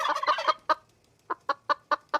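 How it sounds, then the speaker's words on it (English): A turkey gobbles close by in a loud, rapid rattling burst, then, after a brief pause, lets out five short, evenly spaced gobbling calls. "Not chicken, turkey."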